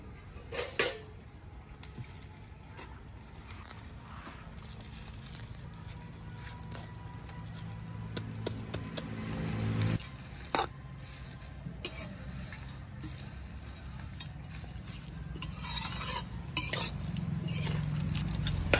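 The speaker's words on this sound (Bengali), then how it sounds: "এবার শাকগুলো দিয়ে দেব।" Fresh note shak greens go into a crab curry simmering in a pot, followed by close stirring scrapes, utensil clatter against the pot and a low sizzling bubble underneath.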